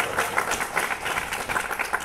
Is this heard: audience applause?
yes